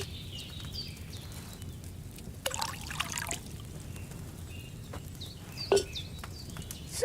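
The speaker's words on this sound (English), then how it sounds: "So, what did you pour in there? Wine, of course." Wine poured from a pitcher into a cauldron in Kingdom Come Deliverance 2: a faint trickling pour over a quiet background, with a brief splash of liquid in the middle and a small clink near the end.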